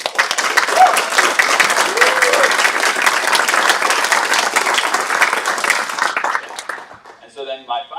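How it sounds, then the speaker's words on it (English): An audience at a climate hackathon kickoff breaks into loud, sustained applause that fades out near the end, followed by a short burst of someone speaking. "Big round of applause to all of them."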